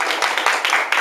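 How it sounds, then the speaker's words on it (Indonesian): An audience claps for Professor Kurniawan at a talk, a brief dense burst of applause, loud and close, with many hands patting together in a steady rush. "beri sekali lagi tepuk tangan yang sangat meriah untuk Profesor Kurniawan"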